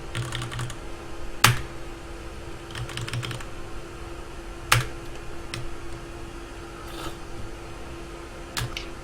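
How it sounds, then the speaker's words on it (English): Bursts of typing on a computer keyboard during StarCraft ZvT coaching, quick clusters of key clicks with sharp louder keystrokes spaced a few seconds apart over a steady low hum. "I'll keep typing every like 5 seconds."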